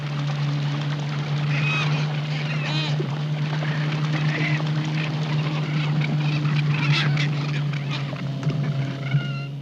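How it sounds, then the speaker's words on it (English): A large flock of cormorants and pelicans at a sanctuary nesting site makes a dense, continuous chorus of overlapping calls, steady throughout over a strong low hum. "Thousands of cormorants and pelicans pepper the sky and sea."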